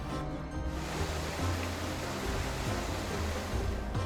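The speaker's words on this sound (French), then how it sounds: "Alors ici, nous sommes au ruisseau des Rochers." The Ruisseau des Rochers, a stream in a nature reserve flowing down through a marsh toward the river, heard as a steady, soft rushing of water that stays even and continuous with no voices.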